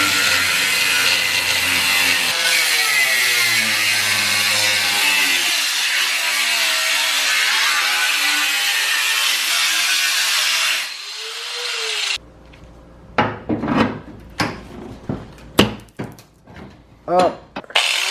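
Cutting into the fenders of a Nissan 350Z for a widebody fit with a whining, buzzing power tool whose pitch rises and falls for about eleven seconds, then stops, leaving scattered clanks and handling noises.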